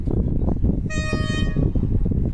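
Thai train No. 434 gives a short, clear horn blast of well under a second over the steady rumble of the passing train near Pa Sak Jolasid Dam, loud and close.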